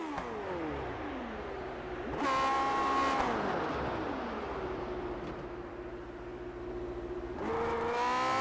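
An onboard race car engine laps Barber Motorsports Park, its pitch climbing in sharp shifts, dropping through a downshift into a corner and then rising hard again. It is loud and continuous, with no talk over it.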